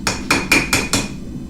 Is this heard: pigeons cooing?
no